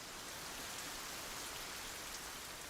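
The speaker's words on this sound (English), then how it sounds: "So when it's raining like this" Steady rain falls in a garden, a dense, even hiss of drops on surfaces filling the whole moment with no pauses and no voices.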